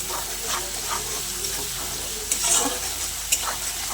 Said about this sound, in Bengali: আদা রসুন বাটা আর পেঁয়াজটা একসঙ্গে আমি তেলের মধ্যে ভালো করে ভাজা ভাজা করে দেবো